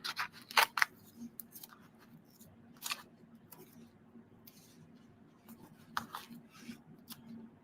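Scissors snip through masking tape in a few short, crisp cuts, with quiet rustling and handling in between during an art journaling session.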